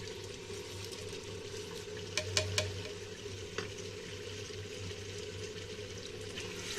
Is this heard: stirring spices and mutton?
yes